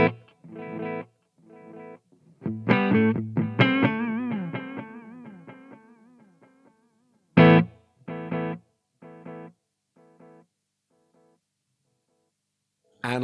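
Guitar played through a multi delay effect on a Marshall MG50CFX amplifier: distorted chords and single notes ring out, each followed by several fading repeats that trail off into quiet, with short picked phrases returning.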